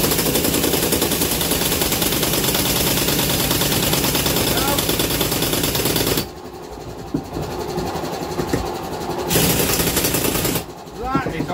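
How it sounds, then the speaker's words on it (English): Pneumatic air impact gun running flat out on BSA engine head bolts, a loud, close, continuous rattling hammer for several seconds, then a pause, a second burst and a brief restart. "the air gun on flat out."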